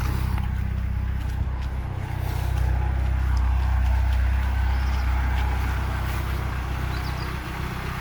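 A Rover 220 Turbo car engine runs at idle, a steady low rumble holding constant and fairly close throughout, with no speech over it.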